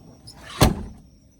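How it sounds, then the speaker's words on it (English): A car door shuts with a single solid thump, close and fairly loud, followed by quiet; a power cord runs out through the door to an ozone generator inside the vehicle. "I'm going to close the door here."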